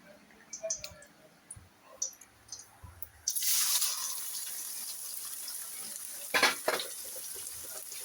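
Sliced onions hit hot oil in a pan for a liver curry and start a loud, steady sizzle with crackles and pops, after some quiet clicking and handling sounds.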